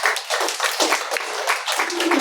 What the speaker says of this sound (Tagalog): Palakpakan nga po natin ang Panginoon